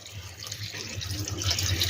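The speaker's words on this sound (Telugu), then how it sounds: "ఇప్పుడు కొంచెం నీళ్ళు పోసుకుందాం" Water poured into mutton cooking in a pot with tomatoes: a brief, steady splashing pour, close and moderately loud, with a faint bubbling underneath.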